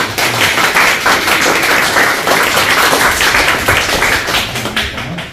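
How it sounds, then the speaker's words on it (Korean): A church congregation at a Sunday service breaks into steady, dense applause, many hands clapping together close by for several seconds before it tapers off. "우리 하나님과 축복의 박수 한번 드리겠습니다."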